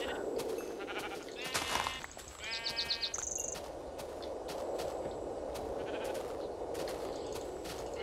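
Sheep in a blocky survival game bleat in short wavering cries over a soft ambient background, with thuddy hit sounds and footsteps mixed in as the animals are struck, all fairly quiet.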